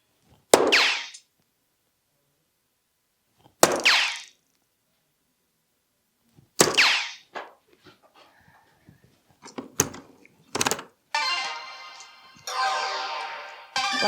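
Steel-tip darts with slim flights strike a dartboard in three sharp, loud thuds spaced a few seconds apart, then softer clicks and rattling as the darts are handled and pulled out.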